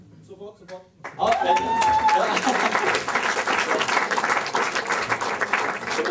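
After a brief quiet moment, an audience at a comedy show in Darmstadt bursts into loud, sustained applause and cheering that fills the room, with voices mixed into the clapping.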